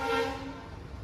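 A train passes a railway crossing on a bypass near Rishikesh, with a steady horn-like tone at first that fades into a softer, uneven rolling rumble.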